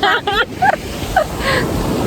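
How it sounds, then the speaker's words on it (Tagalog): Strong ocean surf at Camara Island beach in Zambales rolls and crashes close by with wind buffeting the microphone, while voices talk over the noise. "Ang lalim, ang lakas ng alon."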